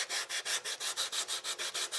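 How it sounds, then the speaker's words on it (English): Depron foam is rubbed with an ultra fine sanding block in a steady back-and-forth rhythm of about ten light, even strokes, close and soft with no voices. "I'm not pushing real hard. I'm just sanding off the excess."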